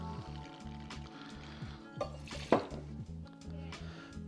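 Buffalo Trace bourbon poured for a French 95 cocktail, a soft close trickle into a jigger or glass with a few light clinks of glassware along the way.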